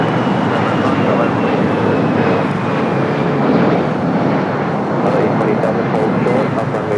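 A United Boeing 787-9 Dreamliner bound for Tokyo Narita gives a steady, loud jet roar at LAX while waiting to take off on the south side. A voice talks over the engine noise.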